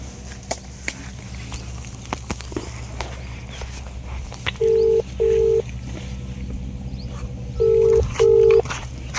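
Telephone keypad dialing tones: four short, clean beeps in two pairs, heard over a faint, steady room background.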